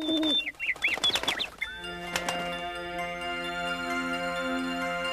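Soft cooing calls of the lullaby birds in the French animated film Le Bonhomme de Neige, a few warbling bird notes near the start before sustained chime-like tones and music take over.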